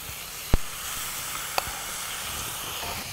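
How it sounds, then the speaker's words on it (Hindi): Two chopped tomatoes frying in a pan for a Madras chicken curry give off a steady, quiet sizzling hiss, broken by a couple of sharp clicks. "इसे थोड़ा हम भूनेंगे, उसके बाद हम इसमें जो कटे हुए टमाटर रखे हैं हमारे जी, वो इसमें डाल देंगे हम।"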